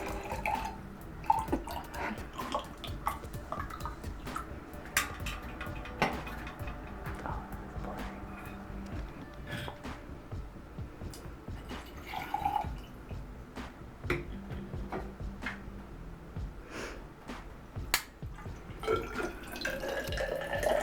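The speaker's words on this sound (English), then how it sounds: "measure the volume of the water in the can by pouring it into the 100 milliliter graduated cylinder" Water is poured from a can into a 100 ml graduated cylinder, heard as faint trickling and scattered drips with light clicks and taps throughout.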